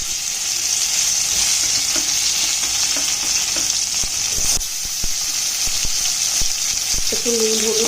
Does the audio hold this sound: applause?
no